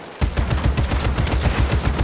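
Rapid bursts of heavy cannon fire in the video game Just Cause 3 repeat in a steady, booming rhythm, loud and continuous with no talking.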